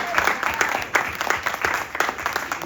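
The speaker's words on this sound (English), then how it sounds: "give her a hand clap" A conference audience claps in rhythm for the woman who organized the event, steady rounds of hand claps fairly close and moderately loud, running the whole time.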